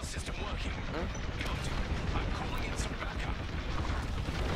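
Dense, continuous rumbling blasts of satellites being destroyed in the Star Wars Squadrons space combat game, a steady wash of explosions and crackling impacts layered over one another with no pause.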